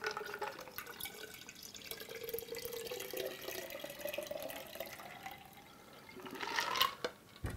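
A honeydew cooler pours and trickles steadily into a big glass for several seconds, quiet and close, ending with a brighter splash and clink near the finish.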